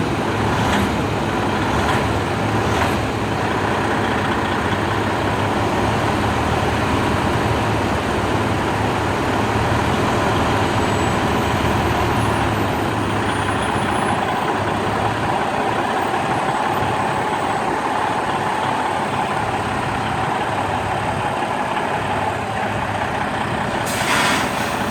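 A semi truck tractor maneuvers into position in front of its trailer: a steady, loud diesel idle and rumble with traffic noise throughout, a sharp air-brake hiss near the start, and reversing beeps, with no talking.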